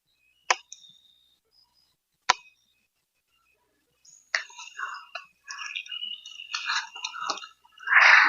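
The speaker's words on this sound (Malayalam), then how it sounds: "ഈ ഒരു പ്രായത്തിൽ തിന്നുമ്പളേ നല്ല കറുകറുന്നെ കടിച്ചു തന്നെ." Unripe green papaya bitten and chewed close up, two sharp crunchy bites followed after a pause by a run of wet crunching chews, quiet otherwise.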